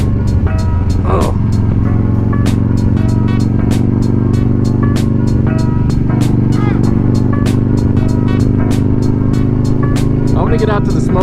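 A Harley-Davidson Dyna rumbles along the twisty Angeles Crest Highway with a steady, loud, low engine drone. Regular sharp ticks and clatter sit over the continuous throb, heard close from the rider's position.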